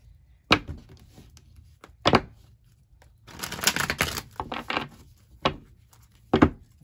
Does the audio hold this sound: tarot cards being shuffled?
yes